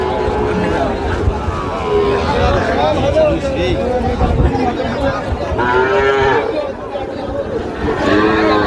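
Young bull calves at a cattle market in Feni moo repeatedly in drawn-out calls amid the busy babble of the crowd, with voices talking nearby throughout.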